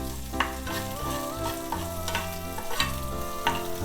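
Cumin and green chillies fry in ghee in a pan, a steady close sizzle with spatula stirring scrapes at irregular intervals, and no talk.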